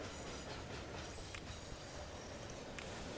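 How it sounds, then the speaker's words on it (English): A short iron ore train runs in the train-building video game Locomotion, its steady rolling rumble with faint rhythmic clicking carrying on low and constant underneath, with no talking. "This is the shortest iron ore train."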